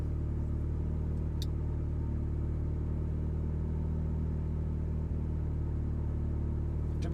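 A steady, low engine idle from a warm turbocharged Mazda MX-5 Miata rumbles continuously and evenly throughout, close by, with no revving or talking.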